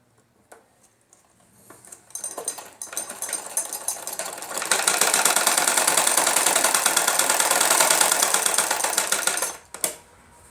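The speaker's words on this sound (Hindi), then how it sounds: "अब हमें उसकी सिलाई करनी है।" A sewing machine stitches the side seam of a salwar belt, a few light handling clicks leading into a steady, fast-running hum of about five seconds that stops abruptly, followed by a brief rattle.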